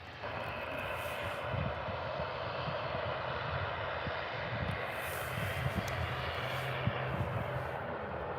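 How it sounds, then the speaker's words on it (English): An Aer Lingus ATR 72-600 turboprop airliner roars on takeoff at Birmingham airport, a steady loud engine drone heard from a distance and holding throughout. "Turn and burn from the ATR 72600."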